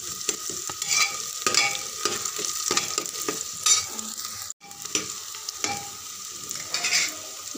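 Ingredients for an aloo matar sabzi sizzle steadily in a pan, being fried until light pink, with repeated scraping stirs and a brief clink partway through, no voices.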